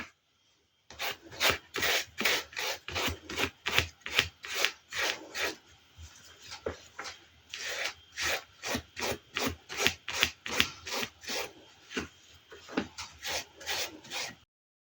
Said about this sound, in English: Just rubbing it on very gently.